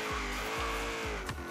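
A Dodge Dart in Forza Horizon 3 spins its wheels, tires squealing in repeated rhythmic bursts over a loud, steady engine drone.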